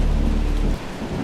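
Heavy rain pours down around a village hut at night, with a deep, continuous thunder rumble under the steady downpour that eases off slightly near the end.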